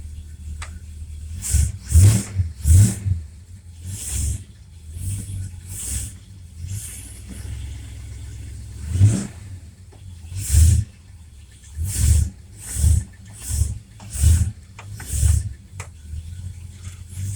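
A Mopar engine fitted with a Federal-style power steering pump runs close by, its rough idle broken by repeated sharp revving bursts, each rising briefly then dropping back, spaced irregularly over the stretch with no talk.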